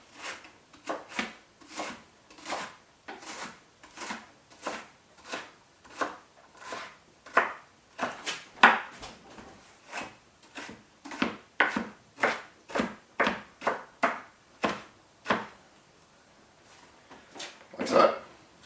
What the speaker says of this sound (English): Just slice it up. And then slice it again.